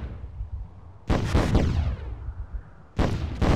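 An explosion in the fantasy strategy game Myth: Soulblighter: a sudden heavy blast with a ringing, decaying tail, followed a couple of seconds later by another sharp burst, loud against a quiet background.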